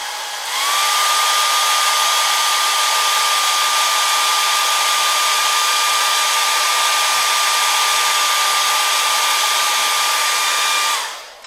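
A hair dryer blows steadily to dry paint on a hobby piece, a loud, constant whirring hiss that holds for about ten seconds before cutting off, with no talking.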